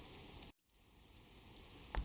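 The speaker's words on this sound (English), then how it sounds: "So it's raining." Rain in Persona 4 Golden pours as a steady broadband hiss, cut by a brief silent gap near the start, with a small tap soon after and a louder thump near the end.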